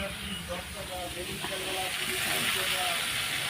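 Prawns hiss and sizzle steadily in a hot pan, a continuous frying noise that swells slightly as they go in, under quiet household background.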